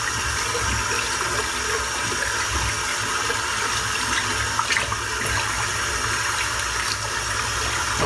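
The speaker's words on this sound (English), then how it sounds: "I'm going to try rinsing this cream out." Cold tap water runs steadily over a brush or bowl as shaving cream is rinsed out of it, a continuous close splashing wash with no speech.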